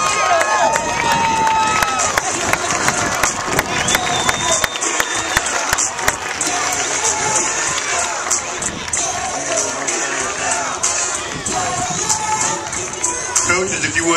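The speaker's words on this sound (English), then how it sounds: "Give them a round of applause." Crowd at a Little League opening day cheering and applauding the junior state champion all-star team, a steady loud mass of claps and shouts with children's voices and an announcer-style voice mixed in throughout.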